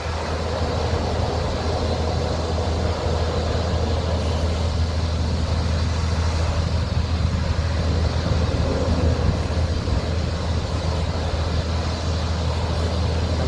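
Loud, steady broadband rumble of road surface work machinery drifting down to a riverside recreation area near Gavins Point, Yankton, South Dakota, droning continuously without a break.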